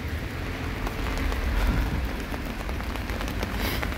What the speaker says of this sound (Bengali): যেদিকে চোখ যায় শুধু বৃষ্টি আর সৌন্দর্য।